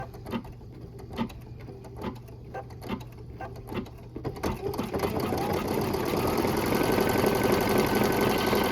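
An embroidery machine stitches a double-stitch tack-down, first tapping out spaced needle strikes, then settling into a dense, steady mechanical whir that stays loud and close.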